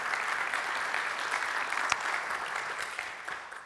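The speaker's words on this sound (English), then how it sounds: "Come on, girl, give her a round of applause." An audience applauds during a talk on following your north star, a dense, steady wash of many hands clapping that holds evenly throughout, with one sharper clap standing out midway.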